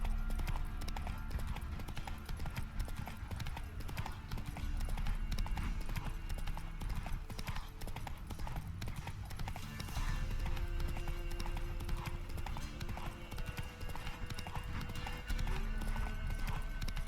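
Roach the horse gallops in The Witcher 3, a rapid steady clip-clop of hooves running continuously and loud, with a neigh partway through and game ambience underneath.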